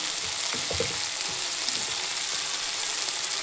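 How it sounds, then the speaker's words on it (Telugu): Brinjal pieces frying in a pan with a steady, close sizzle of hot oil, a few soft stirring clunks near the start, and no talking. "ఇప్పుడు వీటిని మనం మంచిగా వేగనియాలి."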